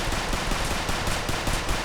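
Rapid automatic gunfire from an MP5 or Kalashnikov in a video game, a continuous rattling burst of evenly spaced shots at steady loudness throughout, no speech over it.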